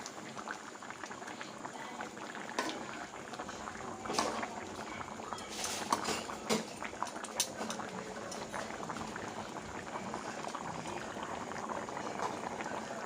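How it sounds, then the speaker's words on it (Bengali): Hilsa fish curry with new potatoes and eggplant bubbling steadily in a pot, a continuous close simmering gurgle with occasional louder pops and bursts throughout. "বলক চলে এসেছে।"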